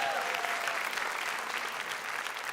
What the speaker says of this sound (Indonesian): Boleh minta tepuk tangan dong buat UPN.